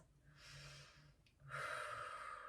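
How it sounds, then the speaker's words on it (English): Heavy, forceful breaths during a fit ball workout, a long exhale-like rush followed by another stronger one, with a faint low hum of background music underneath. "I'm breathing loudly to remind you to breathe."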